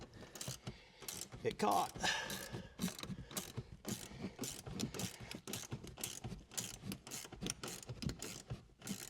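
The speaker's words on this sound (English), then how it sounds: "I guess I'll do that with a wrench." A wrench works on a seat bolt in a 1967 Firebird, giving a string of quiet ratcheting clicks and faint metallic mechanism noises, close but soft, with a brief spoken remark partway through.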